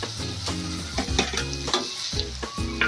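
Golden-brown onion with ground coriander mixture frying in a pan, a loud continuous sizzle with rhythmic stirring strokes running throughout, no voices.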